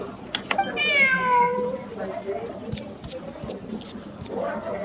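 A cat in the Genshin Impact video game lets out a clear, drawn-out meow near the start, followed by quieter background game sounds, light clicks and a faint voice.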